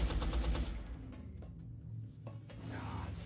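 Rapid gunfire bursts from a squad firing in XCOM: Enemy Unknown, loud and dense at the start, then thinning into scattered shots and rattling impacts, with no talk over it.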